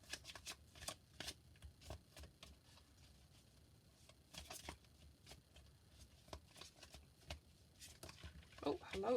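Tarot cards being shuffled by hand: repeated crisp riffling and slapping bursts, fairly close and quiet, with a brief voice-like sound near the end.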